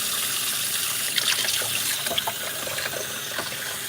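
Black-eyed peas are rinsed under running water at a kitchen sink, a steady trickling stream with faint splashes and clinks, with no talking.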